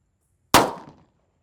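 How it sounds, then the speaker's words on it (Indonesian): A single raja kera firecracker bursts with a sharp, loud crack that rings briefly and decays within about half a second, with nothing else heard. "Di sini ada mercon raja kera. Kita lihat reaksinya. Sudah menyala bosku"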